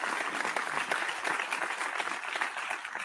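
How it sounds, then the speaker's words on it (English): A burst of applause sound effect played on a radio sports show, dense and sustained throughout, moderately loud with no talking. "I'm gonna go ahead and hit the clap."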